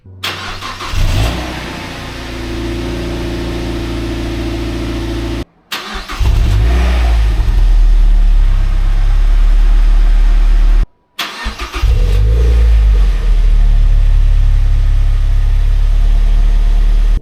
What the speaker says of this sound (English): First, here is a cold start.